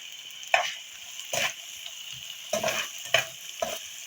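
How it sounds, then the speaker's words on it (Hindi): Finely chopped onion frying in a pan, with bursts of sizzling and stirring scrapes recurring every second or so, fairly close and with no talking. "ये मैंने प्याज लिया है, इसको हमने बारीक चॉप कर लिया। एक ही लिया है, इसको हम फ्राई कर लेते हैं।"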